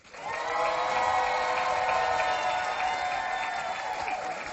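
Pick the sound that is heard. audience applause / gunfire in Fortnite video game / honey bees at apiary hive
audience applause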